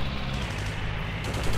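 Steady, dense burst of gunfire from the WWII shooter Heroes & Generals, loud and continuous over a low rumble, with no voices.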